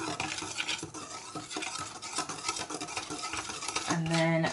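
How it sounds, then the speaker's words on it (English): A whisk scrapes and clatters around a bowl, mixing flour, caster sugar and salt; close, rhythmic stirring clinks with a faint hum near the end. "we just want to whisk this up so it's all mixed in together."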